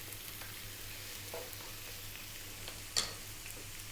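Onion, garlic and celery sizzle steadily in a pot as the base for a Greek beef and tomato stew, a soft continuous frying hiss with a brief louder clink near the end.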